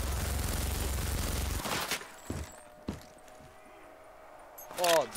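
Gunfire in a Call of Duty zombies map, a rapid automatic burst fading out, then a few single sharp shots and a final loud blast, with game sounds between.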